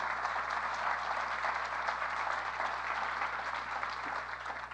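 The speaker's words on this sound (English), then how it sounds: "Let's give them a big round of applause." An audience at a school district State of Education event applauds a children's honor choir, with dense, steady clapping that holds even throughout and tapers slightly at the end.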